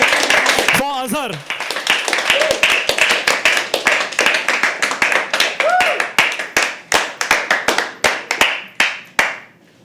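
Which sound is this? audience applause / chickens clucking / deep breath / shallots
audience applause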